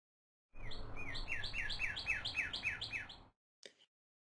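A bird sings a repeated series of bright descending chirps, about a dozen in a steady rhythm, close and clear, followed by a short separate chirp after a brief pause.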